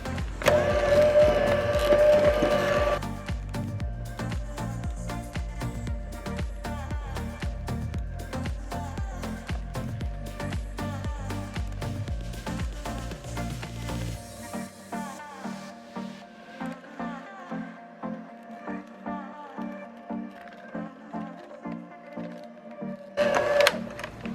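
A hand mixer on low speed works through pumpkin bread batter after the rest of the flour goes in, giving a steady motorized whir that is loudest at first, then settles into an even hum with light rhythmic rattling toward the end.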